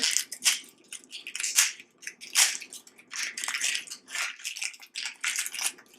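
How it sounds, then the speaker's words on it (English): A large onion has its papery outer layer peeled off by hand in a kitchen, giving a series of close, dry crackling and tearing bursts in an irregular rhythm, with no talking. "Go ahead and peel off first layer."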